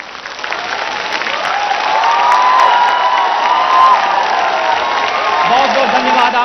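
Large crowd clapping and cheering with hands raised at a televised public event in Lucknow, loud and continuous applause with shouts mixed in throughout.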